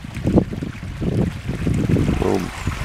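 Wind blowing outdoors during a fishing trip, a steady rumbling gust buffeting the microphone across the whole moment.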